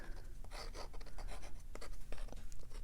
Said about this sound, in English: I go in here sometimes and just sketch in leaves